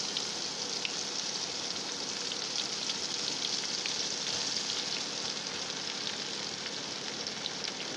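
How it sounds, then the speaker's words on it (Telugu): Gram flour pakodas frying in peanut oil give a steady, dense sizzle with fine crackling that stays continuous and fairly close throughout, with no voices. "ఇది ఈ విధంగా ఫ్రై అవ్వాలన్నమాట."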